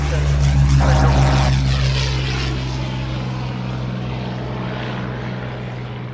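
A Hawker Hurricane propeller fighter flies past at an air display, its piston engine droning loud and steady with a rising buzz early on, then fading slightly as it passes.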